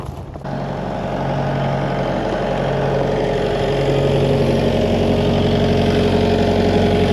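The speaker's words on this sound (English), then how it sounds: "It's like a big industrial pump," A large industrial pump engine, pumping water into 18-wheeler trailers, runs with a steady, loud mechanical drone after a brief quieter start.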